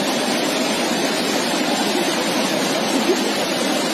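Swollen river water rushes steadily beneath a broken bridge in Kinnaur, a dense, unbroken roar close by with no voices.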